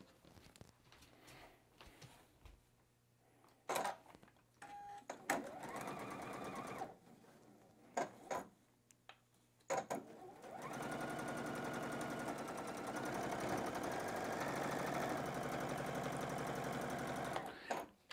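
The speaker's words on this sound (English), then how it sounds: "I'm going to sew this line down" A sewing machine stitches a patchwork quilt block seam: a few short bursts and pauses first, then a long steady mechanical run of rapid needle strokes, close and clear.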